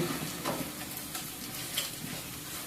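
Taki fish fries in hot oil in a pan while being prepared for bharta. The sizzle is dense and steady, close to the mic, with faint scraping stirs inside it.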